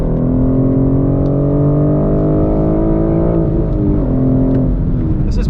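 A 2021 BMW M4 with a six-speed manual lapping Gingerman Raceway, heard from inside as a loud, steady engine drone holding pitch, then dipping and rising again near the end.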